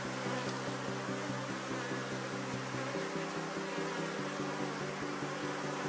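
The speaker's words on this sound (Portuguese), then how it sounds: "Fechar logo aqui o enxame, né, para evitar" Dense honeybee swarm humming steadily at a hive during colony work, a close, continuous buzzing drone that stays even and full throughout with no voices.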